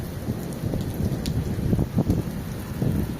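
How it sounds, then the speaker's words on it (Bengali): Rain with small hailstones falling in Saudi Arabia, a steady close patter with scattered sharper ticks of ice striking surfaces, moderately loud and continuous, with no voices. "এই যে পাথর পড়তেছে, ছোট ছোট দানা পড়তেছে পাথরের"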